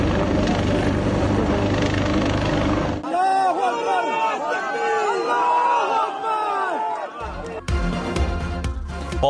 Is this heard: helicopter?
yes